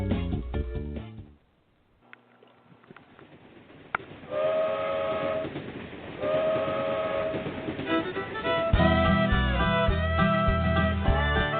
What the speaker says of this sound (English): The bluegrass trains are coming.